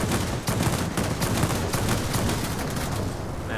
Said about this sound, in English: let's go ahead and use our guns